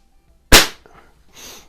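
A single sharp shot from a Sheridan Blue Streak .20 caliber multi-pump air rifle cracks close and loud, then decays quickly into faint rustling and a soft hiss.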